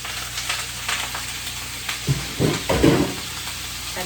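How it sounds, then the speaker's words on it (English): Kohlrabi and carrot stir-frying in a pan already used for sautéed onion and garlic, giving a steady sizzle with a few louder scrapes and stirring bursts toward the end. "will stir fry"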